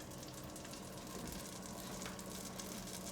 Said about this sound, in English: I'm going to throw butter in here, because now we're going to saute our onions and carrots over here